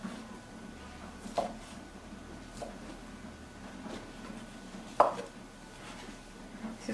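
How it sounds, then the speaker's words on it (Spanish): Bacon being chopped finely with a knife on a board, a few sparse close knocks, one sharper cut standing out, over a quiet kitchen background. "picamos nuestro tocino y lo vamos a reservar"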